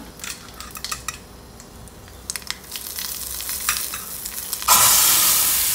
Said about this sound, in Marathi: हे मेथी दाणे मी टाकत आहे फोडणीमध्ये